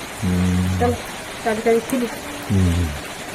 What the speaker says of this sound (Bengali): ক্রমশ বেলা বাড়ার সঙ্গে সঙ্গে বৃষ্টি বাড়ছে